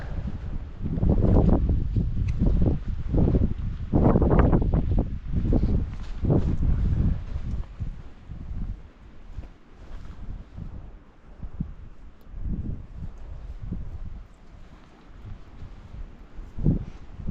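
Wind gusting across open moorland on Bodmin Moor, with strong buffeting rumbles near the start that ease into lighter, intermittent gusts.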